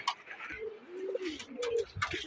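Pigeons coo in several low, wavering phrases as they come down onto a rooftop, close and fairly soft, with light rustling and flutters between calls.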